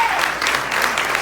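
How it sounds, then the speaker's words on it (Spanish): Applause fills a church congregation on a Sunday morning, a brief burst of dense clapping from many hands, steady and fairly loud throughout. "También podemos dar un fuerte aplauso a los amigos y amigas que están en medio nuestro"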